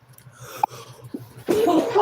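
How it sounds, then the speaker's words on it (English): A single sudden sneeze bursts out loudly near the end after a few quiet breaths and small throat sounds, close to the microphone. "Oh, I gotta sneeze, you guys."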